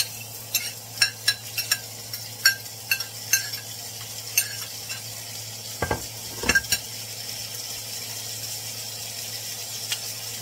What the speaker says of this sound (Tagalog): Ngayon ay nag-saute natin yung ating onion and celery.